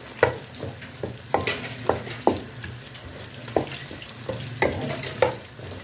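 Beef and ground spices such as red chili and coriander stirred in a karahi, a rhythmic series of spoon scrapes and knocks against the pan, roughly every half second over a soft sizzle.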